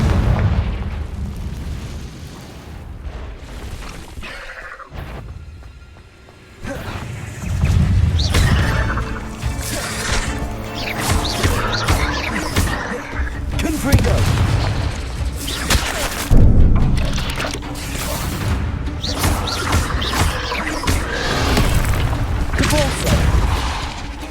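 Confringo spell blasts in Hogwarts Legacy, a series of loud booming bursts and crackling explosions throughout, mixed with other spell effects and combat noise.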